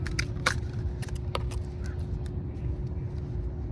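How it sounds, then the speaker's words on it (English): Crows caw in a few short, scattered calls at moderate distance over a steady low traffic-like rumble and a constant hum. "You hear those crows, right?"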